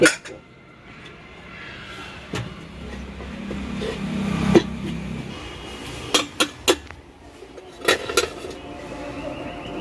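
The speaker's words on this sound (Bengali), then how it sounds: "ঢাকাটা সরিয়ে নিলাম" A metal pot lid clinks and scrapes as it is lifted off simmering mutton liver curry, giving a few sharp clanks and taps over low kitchen bubbling.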